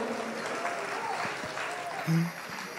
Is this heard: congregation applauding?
yes